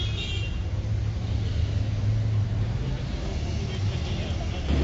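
Night road traffic in Dubai, a continuous low rumble of car and bus engines heard from inside a moving vehicle, steady and moderately loud, with a person talking over it.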